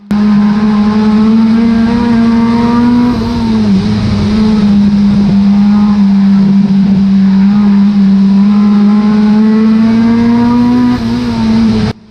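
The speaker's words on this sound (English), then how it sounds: "coming into the last lap, Aussie's still in second place with third place miles behind" A stockcar races its final lap at Cowdenbeath Racewall. A loud, steady engine drone holds throughout, its pitch wavering slightly as the car works the oval, with no talk over it.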